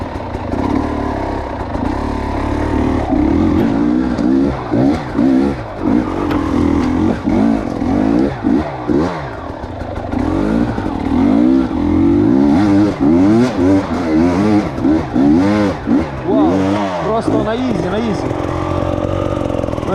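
A KTM 300 EXC Six Days enduro motorcycle engine revs hard and repeatedly up and down close by, with loud rising and falling pitch sweeps that run throughout.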